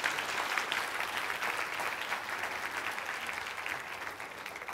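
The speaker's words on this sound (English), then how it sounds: "Let's give a round of applause to our team" Faint, distant audience applause in a church setting, an even wash of many hands clapping that holds steady for a few seconds and tapers slightly.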